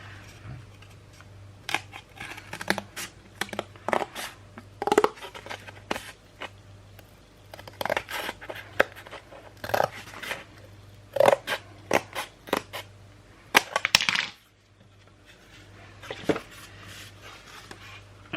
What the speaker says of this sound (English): So I'm just going to trim a little bit more off the edge.